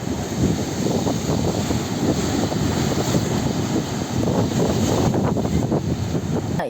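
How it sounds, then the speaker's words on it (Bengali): Gusty wind from Cyclone Remal batters a microphone outdoors in South 24 Parganas, a steady loud roar with buffeting low rumble throughout, no voices. "ঝোড়ো দমকা বাতাসের সঙ্গে ভারী বৃষ্টিপাত শুরু হয়েছে"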